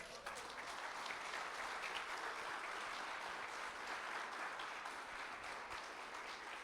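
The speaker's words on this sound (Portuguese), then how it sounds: "Dá uma salva de palmas, Senhor Deus." Church congregation breaking into sustained applause during a pastor's sermon, a thick, continuous roar of clapping from many people, steady throughout with no voices standing out.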